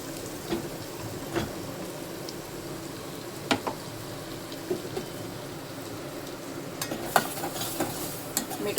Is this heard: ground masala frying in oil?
yes